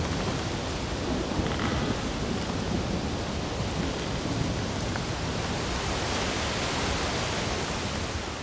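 Steady heavy rain from a subtropical storm pours down with a low rumble of thunder underneath, a dense, constant wash of noise with no voices.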